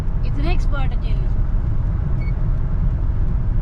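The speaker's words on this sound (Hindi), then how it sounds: "बिना गियर के गाड़ी चल रही है ड्यूटल पे इतनी स्पीड पे।" A car travels at speed along a desert road near Madina, with steady engine and road rumble throughout while someone talks over it.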